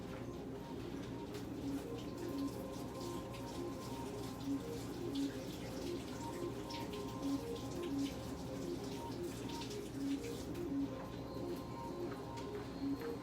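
Tap water runs steadily at a sink while acrylic paint is washed off, a continuous wash of flow under faint background chirps, with no talk over it.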